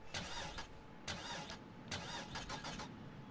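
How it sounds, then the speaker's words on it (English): A Nighthawk car in a video game, modeled on a Knight Rider car, cranks and starts with an LS3-style V8 sound, giving repeated loud starter bursts over a steady mechanical rumble. "it sounds like a LS3 startup"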